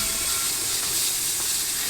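A steam locomotive on a cold day in Utah vents steam in a steady, broad hiss that holds unbroken and close for the whole stretch, with no voices.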